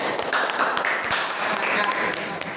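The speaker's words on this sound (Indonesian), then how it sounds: "Tepuk tangan untuk kelompok 1." A group claps for the first team in a classroom or meeting, scattered, moderately loud applause with distinct hand claps, mixed with some voices talking over it.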